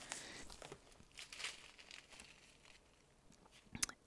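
Plastic bags holding beads from a cross-stitch kit crinkle as they are unpacked, with a scattered run of soft rustles and crackles and a sharper crunch near the end, close and fairly quiet with no talking.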